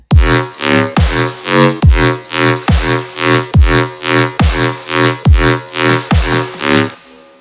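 A riddim dubstep drop: heavy, distorted bass stabs repeat in a tight, bouncy rhythm about twice per second, loud and alone, before cutting off.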